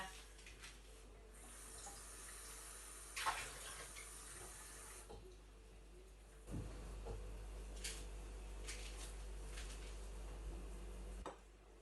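Water poured from a pourer into a measuring cup while making salt dough, a faint trickle and splash in short runs with occasional clinks, and a quiet voice in the background.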